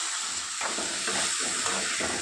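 Pieces of ivy gourd fry in oil in a pan with a steady bright sizzle. Soft rhythmic pulses come as they are stirred, with no talking.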